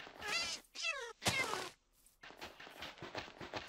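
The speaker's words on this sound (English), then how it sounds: "Oh, I'll save you, cat." A cat meows in a video game, with a short rising-falling wavering cry standing out between bursts of louder game noise and effects.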